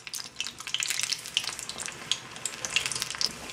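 Hush puppies fry in hot oil, a dense crackling bubbling sizzle that stays close and continuous without voices.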